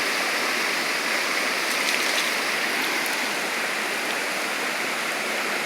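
Steady rainwater rushing and flowing in a rural countryside setting, a dense, even hiss like a stream or runoff that continues unbroken and fairly close throughout.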